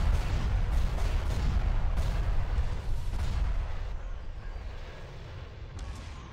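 Heavy turbolaser barrages in a Star Wars: Empire at War space battle, a dense, booming rumble of repeated blasts that gradually fades toward the end.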